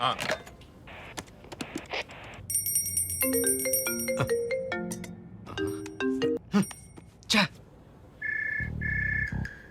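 A telephone rings at a police station with bright electronic ringtone chirps and tones, repeating in short bursts among other beeps, while people talk over it.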